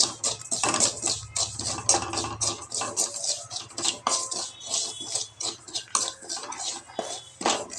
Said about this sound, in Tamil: முதல்ல நமக்கு வெள்ளை ரவையை வறுத்துக்கலாம். கருகாமல் வறுக்கணும்.